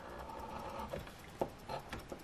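A coin scratches quickly across a $5 lottery scratch-off ticket in angled zipping strokes, a soft continuous rasp with a few sharper scrapes.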